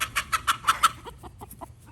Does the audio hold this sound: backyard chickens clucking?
yes